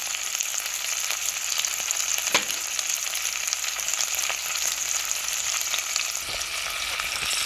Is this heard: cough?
no